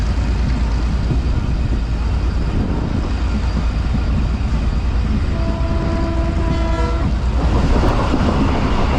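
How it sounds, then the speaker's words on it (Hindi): Mohenjo-Daro passenger train hauled by an ML2 locomotive pulls away, a loud continuous rumble of wheels and engine with steady rolling noise and a few brief tonal whines, no talk. "ट्रेन आगे बढ़ चुकी है।"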